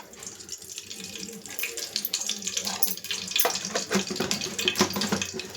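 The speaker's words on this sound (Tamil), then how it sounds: "எண்ணெய் ஊற்றிக்கலாம்." Oil poured into a heated pan or cooker on a stove while making chickpea biriyani, a close, continuous liquid splashing and trickling that rises and falls over several seconds.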